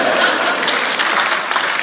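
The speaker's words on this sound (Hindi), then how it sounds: "अच्छा, ऐसी ताली बज गई जैसे आप में से कुछ लोगों ने बजाई।" Loud, dense audience applause fills a comedy poetry show at a Hindi hasya kavi sammelan, steady crackling clapping from a crowd with no voices over it.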